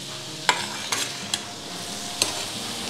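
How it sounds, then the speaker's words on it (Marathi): Potatoes and fenugreek leaves stir-fried with garlic in a pan: a low steady sizzle broken by four sharp spatula knocks and scrapes against the pan, close and clear. "आता हे 4-5 मिनटं असंच आपण परतत राहणार आहे"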